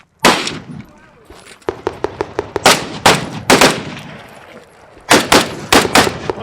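Russian and Soviet-era guns fire at steel targets at a shooting event: a loud, close series of sharp shots, sometimes single and sometimes in quick clusters, with brief pauses between strings.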